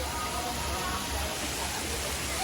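Water from a running shower pours in a constant, fairly loud hiss, with no break across the short stretch.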